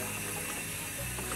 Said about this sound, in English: Nice to have running water out here in the bush